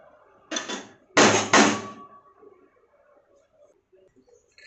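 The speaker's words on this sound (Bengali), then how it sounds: "আলুটা থেতো করে নেব।" A washed potato being crushed in a kitchen, heard as three sharp, close thuds: one single hit, then a quick pair of heavier blows, followed by quiet.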